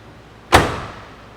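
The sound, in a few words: car door of a 1968 Pontiac GTO convertible closing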